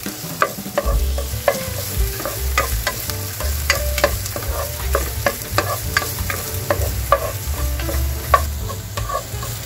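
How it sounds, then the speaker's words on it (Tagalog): Onion and ginger sauté in a hot pan for a Filipino ginataang labong dish, a steady sizzle broken by repeated scraping and clacking stirs of a utensil against the pan, close up with no speech. "Gisa-gisa."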